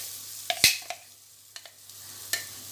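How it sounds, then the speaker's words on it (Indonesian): Blended spice paste for beef rawon is sautéed in a pan, giving a faint, quiet sizzle broken by a few sharp spatula scrapes and taps against the pan. "Selanjutnya kita tumis ya, semuanya kita tumis."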